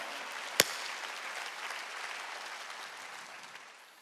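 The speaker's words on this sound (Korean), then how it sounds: "박수치라는 거야." A church congregation at a Wednesday worship service claps together in a steady, dense wash of applause that starts with one sharp, loud clap and then slowly tapers off.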